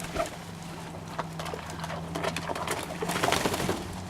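Feather-footed pigeons coo softly and repeatedly in a loft, low murmuring calls overlapping with light rustling and clatter, close by and steady throughout.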